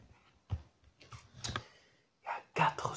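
Tape is peeled off the packaging of a Game Boy-style power bank in close-up, a few short sharp rips and crackles separated by brief quiet gaps, with faint breathy sounds between them.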